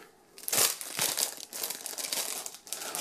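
Star Wars Rebels sticker booster packs are torn open, with close, loud crinkling and rustling of the plastic foil wrappers in uneven bursts.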